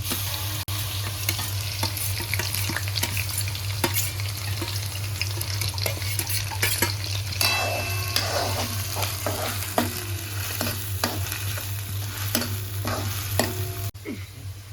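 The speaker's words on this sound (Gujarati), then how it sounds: "આપણું જીરું ફાટી ગયું છે તો હવે આપણે નાખી દઈશું એમાં ડુંગળી" Chopped onions hit hot oil with crackled cumin seeds for a Gujarati-style soya chunk curry, sizzling loudly and steadily while a spoon scrapes and stirs through the pan, with no talking.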